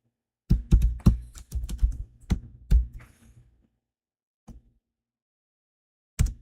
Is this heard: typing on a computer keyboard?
yes